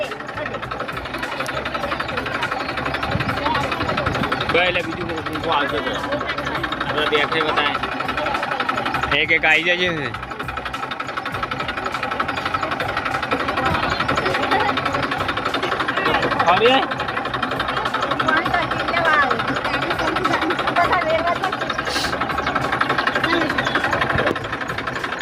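A tractor engine idles with a steady low chugging throughout, heard continuously under outdoor chatter and people talking nearby.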